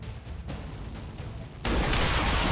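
A loud blast from an XCOM 2 battle, as a Purifier is hit and explodes: an abrupt burst cuts in midway over quiet game ambience and holds as a dense roaring rumble to the end.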